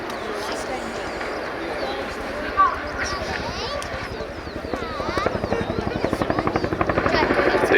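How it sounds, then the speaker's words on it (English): A Chinook helicopter performing a nose-down quick stop at an airshow, its rotor thudding in a rapid rhythmic chop that grows louder and more pronounced, with an announcer talking over it. "The Chinook will now demonstrate a nose-down quick stop"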